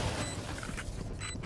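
Mechanical clicks and creaks of a gun being reloaded in a multiplayer shooter video game, a short, moderately quiet sequence of clacking mechanism sounds over steady background noise.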